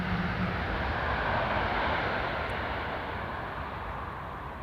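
An airliner comes in to land on Schiphol's Polderbaan runway 18R, its broad engine roar steady and moderately distant before slowly fading.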